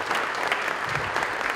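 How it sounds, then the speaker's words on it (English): Audience applause at an American Red Cross awards ceremony honoring local heroes, a steady dense wash of clapping from a seated crowd, moderately loud and continuous throughout. "Let's give him a round of applause."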